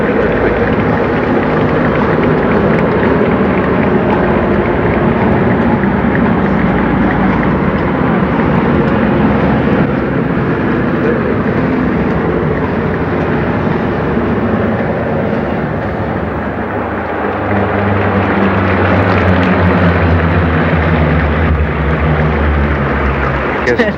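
An aircraft passes low overhead at about 500 feet during a 1988 Australia Day flypast, making a loud, continuous broadband roar that holds for over twenty seconds with a slowly shifting rumble near the end.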